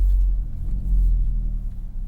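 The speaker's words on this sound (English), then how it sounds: "We'll see if we get any wheel hop when I get on the throttle hard here." A 2024 Hyundai Elantra N with a six-speed manual pulls hard from a stop in traffic, its engine a loud, steady low rumble that swells and dips slightly as it accelerates, heard from inside the car.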